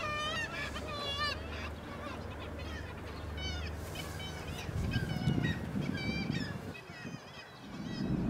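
Swimming sea birds in Båtsfjord harbour in Arctic Norway call repeatedly in loud, nasal honking and wailing cries, some close and overlapping, over a low rumble and water noise that swells in the second half.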